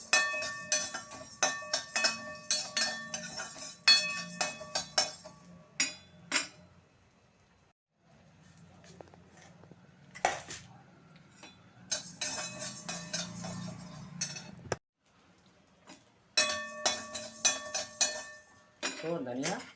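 Coriander seeds dry-roasting in a pan for a curry leaf podi, heard as bursts of clinking and scraping from a spatula against metal, separated by quieter gaps with a low background hum.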